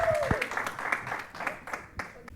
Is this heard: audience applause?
yes